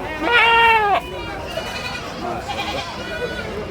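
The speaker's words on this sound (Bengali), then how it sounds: "এখানে সুন্দর দেখতে পাচ্ছি দুইটা রাম ছাগল" Two big white ram goats, a cross of the Haryana breed, give one loud drawn-out bleat up close at a busy Dhaka goat market, followed by crowd chatter and background noise.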